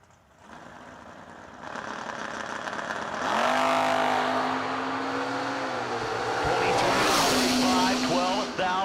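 Drag race cars, a 1995 Mustang and a Z28 Camaro, idle and then rev hard at the strip, the engine roar rising in pitch and swelling loud, with an announcer talking over it.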